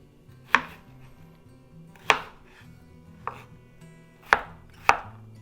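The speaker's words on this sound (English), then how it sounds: "Now the cucumber I'm going to cut into kind of moons" A knife chops a cucumber into half-moon slices on a cutting board, five sharp, separate cuts landing at uneven intervals over a faint, steady background hum.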